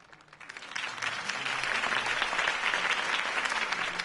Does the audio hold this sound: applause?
yes